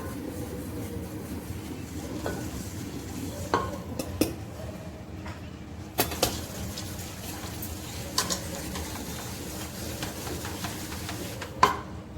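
Peanut powder being added bit by bit to hot jaggery syrup in a pan for peanut laddu gives soft stirring and scraping, with a faint sizzle and scattered sharp clinks of a spoon against the pan, quiet and close, without talking.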